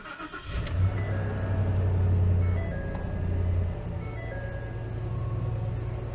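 A 2015 Ford Super Duty pickup with a 6.2L engine, after its ignition coils were replaced, runs at idle with a steady deep rumble, swelling briefly as it starts, then settling into an even drone.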